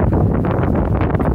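Wind gusting outdoors beside the River Usk, a steady, loud rushing buffet across the microphone that fills the whole short stretch, with no speech over it.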